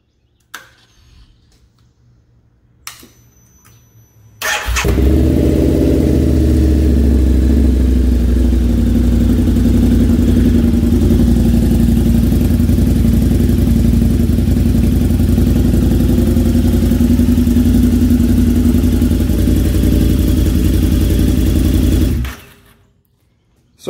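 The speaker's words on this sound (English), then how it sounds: "we're going to start the bike up." A Harley-Davidson V-Rod VRSC fitted with a Vance and Hines exhaust and tuner fires up after a few faint clicks, then settles into a loud, steady, deep idle that runs close and unbroken before cutting off.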